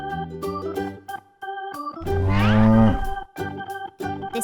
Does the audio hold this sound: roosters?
no